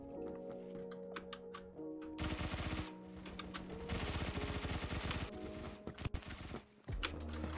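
A 10mm SMG in the first-person shooter Phantom Forces fires long, fast automatic bursts of rapid cracks at roughly 900 rounds per minute, loud and close, with brief pauses between strings and no talk.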